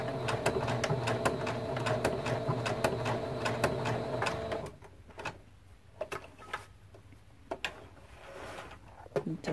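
Sewing machine stitching back and forth on a mug rug quilt, a close rapid mechanical whir that runs steadily, then breaks into short bursts and clicks.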